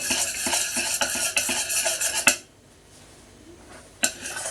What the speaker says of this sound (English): I am just here stirring by the way, into your cold mix